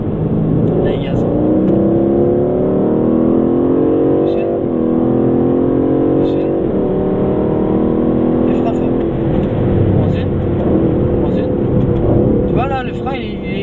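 An Aston Martin Vantage accelerates on a track, its engine revving up through rising sweeps again and again, heard from inside the car with someone talking over it.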